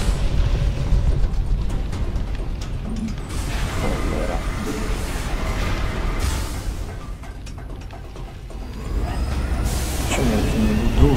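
Spaceship engines in the StarCraft 2 game, a loud mechanical rumble and hiss running throughout with shifting whooshes and clanks, layered with other game sounds.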